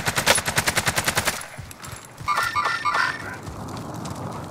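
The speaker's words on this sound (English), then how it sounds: "I'm getting shot northwest by you" Rapid machine-gun bursts ring out in a video game battle royale firefight, with a fast string of close shots at the start, then more scattered fire and other game sounds after a short lull.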